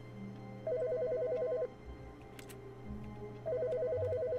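A telephone rings in two loud bursts of rapid electronic warbling trilling, about a second each, separated by a short gap, over a steady background hum with no talking.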